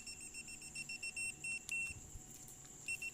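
A digital multitester beeps during a continuity test on a wire, giving a faint, thin electronic tone that sounds in short broken bursts over quiet room background, with no voices.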